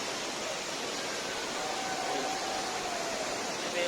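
Pokhali waterfall in Nepal, taken from a footbridge above a gorge, gives a steady broadband roar of falling water, close and continuous for the whole clip.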